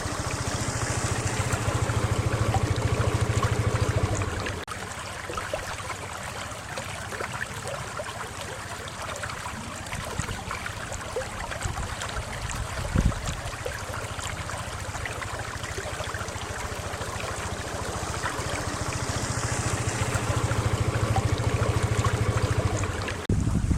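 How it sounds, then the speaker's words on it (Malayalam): A stream's rushing water flows steadily and continuously, with a broad airy roar of wind swelling louder at the start and end. "ഇപ്പോൾ തോട്ടിൽ വെള്ളം ഒഴുകുന്ന സൗണ്ട്, പിന്നെ ആ കാറ്റ്"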